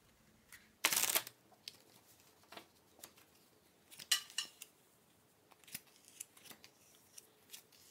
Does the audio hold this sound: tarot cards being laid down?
yes